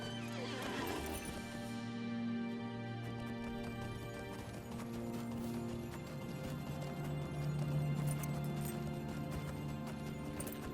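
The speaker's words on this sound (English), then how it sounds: "Let me get on my horse" In the game The Lord of the Rings Online, a horse neighs loudly over steady clip-clopping hooves and sustained game music, the whinny rising early on before the galloping continues.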